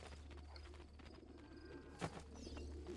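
Pigeons coo softly at a dovecote in Assassin's Creed Brotherhood, a faint steady murmur of bird calls over low game ambience with a brief louder knock near the end.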